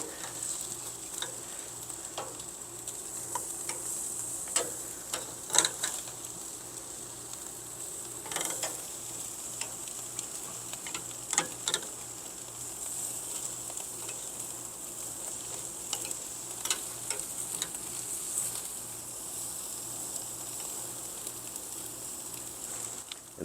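Ribeye steaks sizzling steadily on a grill, a constant close frying hiss broken by occasional sharp crackles and pops, with no voices.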